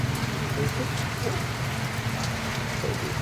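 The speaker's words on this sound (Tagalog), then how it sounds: "Grabing ulan na ito ah." Heavy afternoon rain pours steadily on surfaces at a market in Santa Monica, a dense, continuous hiss that stays loud throughout, with a low rumble underneath and no pauses.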